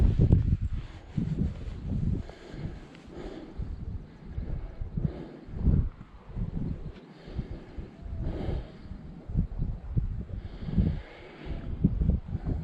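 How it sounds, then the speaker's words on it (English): Gusty wind buffeting the microphone at a Woodburn fishing spot in early July, uneven low rumbling bursts that swell and drop, with no other clear sound. "Only hope is that this wind drops, but whether it will or not remains to be seen."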